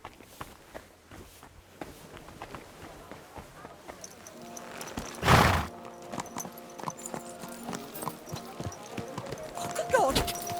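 Hooves clip-clop steadily on a road in the medieval game Kingdom Come: Deliverance II, with one loud thud near the middle and a short horse whinny toward the end, under game voices talking.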